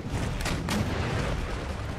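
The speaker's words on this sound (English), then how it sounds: "Oh, the artillery shot always makes them upset." Artillery firing in a Prussian battle in Empire Total War, with a couple of dull booms rumbling over a constant battlefield din, moderately loud and short.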